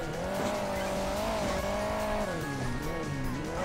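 Monster truck in Hill Climb Racing 2, its engine whining and rising and falling in pitch as it climbs, loud and continuous, with light tire scrabbling and no speech.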